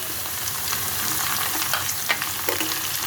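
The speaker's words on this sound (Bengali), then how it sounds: "এখন আমি এর মধ্যে দেবো টমেটো কুচানোগুলো" Chopped tomatoes tipped into half-fried onions sizzling in a pan for kasuri methi chicken, with a continuous moderate fry, scattered clicks and stirring scrapes, no voices.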